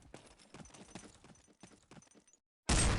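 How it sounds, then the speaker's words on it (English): Repeated footstep sounds in a video game, a steady run of identical thuds that fade out before a sudden loud burst of noise at the end. "Here's some footsteps coming this way."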